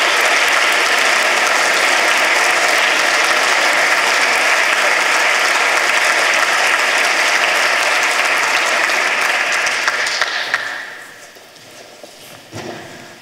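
Loud, dense audience applause fills a hall at a European science award ceremony, holding steady for about ten seconds before thinning into a few scattered claps.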